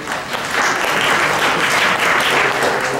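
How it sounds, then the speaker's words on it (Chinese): Sustained applause from students at a school ceremony, a dense, steady wash of many hands clapping throughout, loud and continuous with no pauses. "同学热烈掌声"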